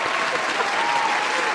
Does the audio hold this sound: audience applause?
yes